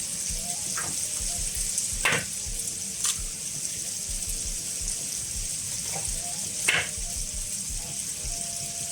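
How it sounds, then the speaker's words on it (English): Bacon sizzling in a pan, a continuous bright crackle with scattered louder pops and faint kitchen clinks, heard close and steady throughout. "let's put our bacon in the pan. Let's fry this up."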